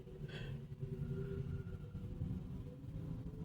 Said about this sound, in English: It was like burning rubber, but I think it was somebody's car getting towed.